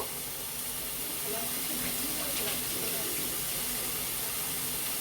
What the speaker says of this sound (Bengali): এবার আমি একটু জল এতে দেব।